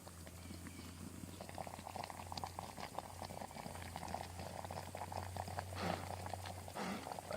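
Rice boiling in a pot on a stove, a steady low bubbling simmer with soft gurgles, faint and continuous without talk.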